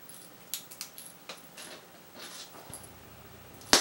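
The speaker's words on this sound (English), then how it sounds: "I'm going to want to turn the leftmost and the second from the left keys to the left at the same time" Metal keys turn in an escape room game prop, making a quiet series of small clicks and light jingles, with a sharper click at the very end.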